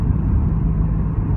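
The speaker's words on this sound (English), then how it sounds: "I'm going to try and turn the car around and park in that parking space" A car turning around to park gives a steady, close, low engine rumble at an even level throughout, with no voices over it.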